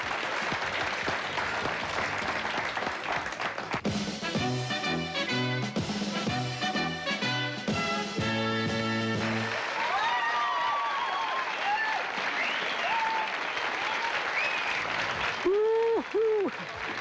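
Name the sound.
TV studio audience applauding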